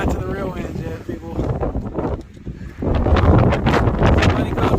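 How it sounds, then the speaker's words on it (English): Strong gusting wind on a mountain near Lakes of the Clouds on the Appalachian Trail roars against the microphone, swelling and easing, then buffeting harder and louder toward the end. "it is so windy"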